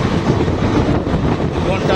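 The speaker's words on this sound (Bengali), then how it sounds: "Express train, Madhupur express." Steady, loud rumble of the Madhupur Express passenger train running on rails from Ranchi toward Hazaribagh, with a continuous roar and faint rhythmic clatter throughout.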